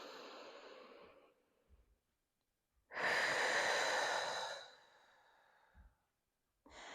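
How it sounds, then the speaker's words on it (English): A person takes slow, deep breaths during a shoulder exercise while suspended by a strap: a soft exhale fades out, then a strong, close inhale-exhale, then another breath starts after a short silence. "I'm going to go back to those deep breaths that we were taking."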